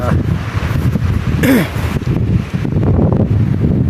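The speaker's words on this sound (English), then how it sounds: "wind is a little howly in here" Gusty wind blowing through spring woods, a steady rushing roar that stays loud throughout, with brief rustling bursts and a short whistling or creaking sweep near the middle.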